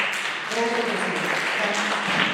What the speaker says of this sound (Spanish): yo les quiero pedir un aplauso, pero para ustedes